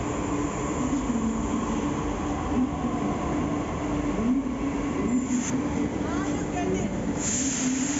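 Rumbling metro train carriage in motion on the line from HUDA City Centre toward Rajiv Chowk, steady rolling drone with rail hum and a faint wheel squeal near the end.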